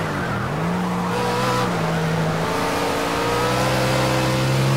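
Race cars lapping Brands Hatch in a racing video game, loud engine tones climbing and shifting through gears with rising pitch, steady and close, no talking.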